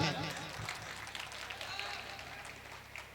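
Audience clapping at a mushaira poetry gathering, a soft diffuse patter of applause from a crowd, steady and somewhat distant, fading slightly over a few seconds.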